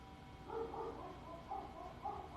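Two female dogs at home, one of them three-legged, give soft, low yips and woofs in a loose, repeated pattern, fairly faint and somewhat muffled against quiet background noise.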